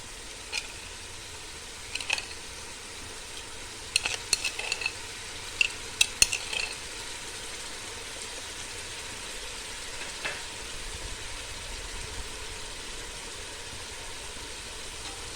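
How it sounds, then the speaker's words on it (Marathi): Chicken with yogurt is sautéed in a pan, making a steady low sizzle throughout, with scattered metallic spoon taps and scrapes bunched in the first half and then fading to a quieter hiss. "ह्याला आपण आता परतत राहूया सुगंध वगैरे अगदी मस्त येते बघा"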